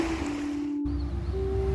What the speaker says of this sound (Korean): 조천항은 여전히 파도치고 여전히 어선들은 항구를 떠납니다.